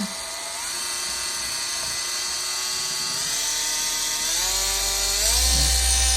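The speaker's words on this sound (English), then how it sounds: "We're going to turn it on. And remember, we're on a 1." BATOCA S5 cordless dual action and rotary car buffer polisher running steadily at low speed on a car panel, a continuous close whine that climbs in pitch in small steps as the speed is raised, alone without talk.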